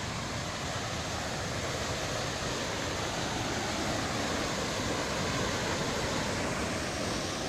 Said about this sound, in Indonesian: Nih lihat sebentar ini air terjun.